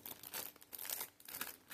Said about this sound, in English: And I'm going to shuffle these.